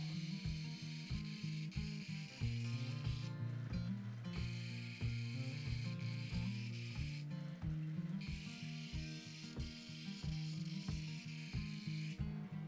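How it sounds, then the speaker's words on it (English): Rough opal pre-polished on a 600 grit wheel, a close steady rubbing and grinding drone with a repeating rhythmic pulse as the stone is pressed and worked against the spinning wheel, alone without talk. "I then obviously move on to the 600 grit wheel where I begin to add the pre-polish"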